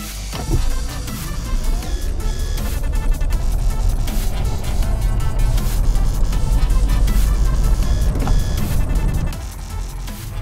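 An Audi e-tron S Sportback electric car in normal driving on the road, heard as a steady, loud interior drone of road and tyre noise with a faint whine, holding even for about nine seconds before easing slightly.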